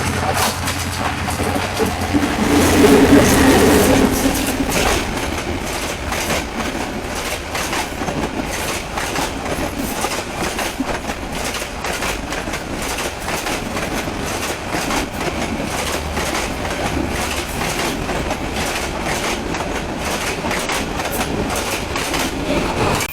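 A passenger train on a rail line in Bangladesh passes close by, its steady clickety-clack and wheel rumble filling the whole stretch loudly and continuously, swelling slightly near the start.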